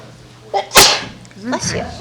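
A single sharp sneeze bursts out loud and close during a Charter Commission meeting, preceded by a short intake of breath and followed by a voice speaking right after.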